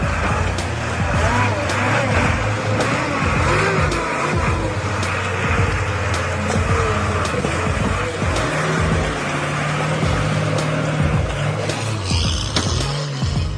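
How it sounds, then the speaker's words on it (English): A heavy Ural 6x6 timber truck grinds over rough terrain, its engine droning loud and steady with deep low rumble and repeated clatters and knocks from the chassis throughout. "The Ural 6x6 timber monster lives up to its name, powering through every terrain with its raw strength."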